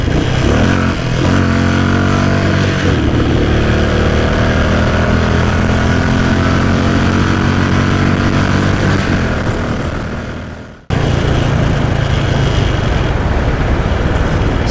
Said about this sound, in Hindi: It's just a very heavy motorcycle with a very heavy chassis and a very heavy engine